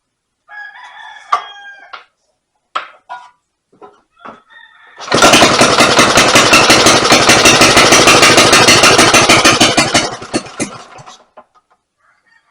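A Briggs and Stratton 6S small engine gives a few scattered sputters, then catches and runs for about five seconds with a loud, close, rapid pulsing roar before it dies back to faint pops.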